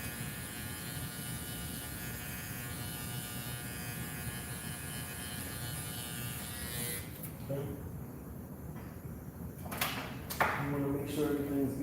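Electric hair clippers buzz steadily and close while cutting a temp fade at 1/4 inch, then cut out partway through, leaving quieter handling noises.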